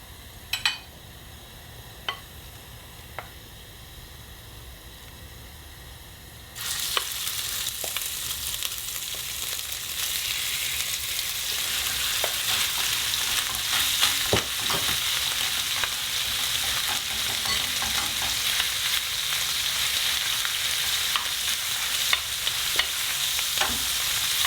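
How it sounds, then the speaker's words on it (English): Pork mince for a spicy Chinese pork and bean dish stir-fries over high heat, a quieter sizzle jumping to a loud, continuous roar of frying with scraping clicks and pan knocks, no talking. "Gently fry that. Well, not so gentle, but fry that as fast as you can."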